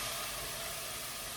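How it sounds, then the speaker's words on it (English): Broth hitting a hot pan while deglazing a vegan Moroccan chickpea, carrot and spinach soup, giving a steady close broadband hiss and sizzle with no talk. "Did you hear that sizzle, sizzle?"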